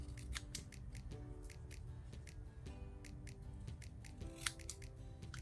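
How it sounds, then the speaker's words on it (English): Scissors snip along a drawn line on craft paper, cutting out a small triangle for a bird's beak: a run of close, crisp snips at a steady rhythm, with no voices. "we can take our scissors and cut away the line"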